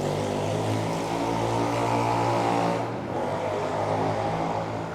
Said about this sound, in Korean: 오토바이가 굉음을 내며 달려갑니다.